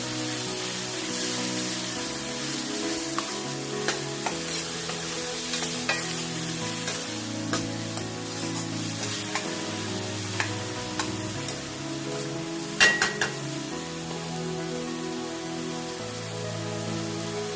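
Onion paste sizzles and fries steadily in a pan for a paneer cashew capsicum curry, a continuous crackling hiss close up, with occasional stirring scrapes and a sharper clatter near the end.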